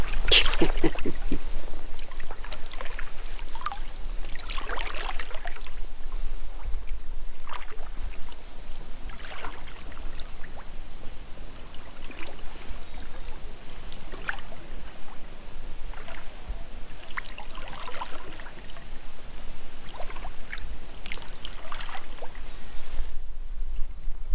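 A canoe paddled across a lake in fall at Arrowhead Provincial Park, with repeated gentle paddle strokes and water swishes and trickles close by over a steady outdoor background.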